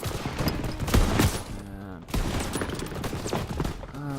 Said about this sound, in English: we don't want half-tracks and MGs to be firing at us